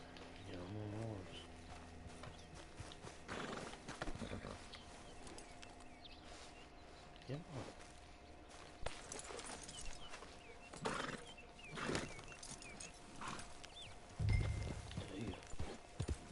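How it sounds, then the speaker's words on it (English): Horse hooves clip-clop intermittently in the Red Dead Redemption Online video game, with occasional snorts or whinnies amid outdoor ambience, while someone talks over it. "Get on the horse."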